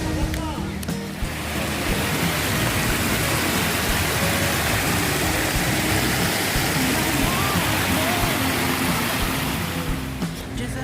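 Cheonjiyeon Waterfall on Jeju Island roars steadily nearby, a dense constant rush of falling water with faint voices underneath.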